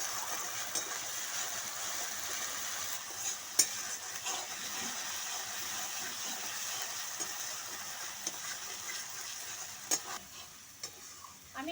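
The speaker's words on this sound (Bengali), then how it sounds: "পেঁয়াজের সঙ্গে খুব ভালো করে আদা রসুনের পেস্টটা আমি মিশিয়ে নেব।" Ginger garlic paste is stirred and fried with fried onions in a pan, giving a steady soft sizzle with occasional spoon scrapes and clinks, close and fairly quiet throughout.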